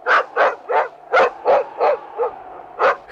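A dog barks in a quick, steady series of about eight sharp, close barks with brief pauses, loud and alone, the famous little dog companion of a young journalist in a Swedish Tintin radio drama.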